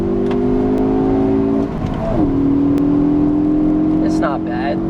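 A car accelerates hard in first and then second gear, the engine note rising steadily, dropping briefly at the shift, then climbing again, loud and close from inside the cabin.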